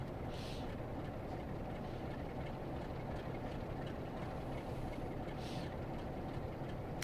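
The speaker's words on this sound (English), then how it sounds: "So we're waiting for that same train to come past." A train rolls past steadily on the West Coast Main Line in Train Sim World 6, a continuous broad rumble and rail roar at constant loudness throughout, with no voices over it.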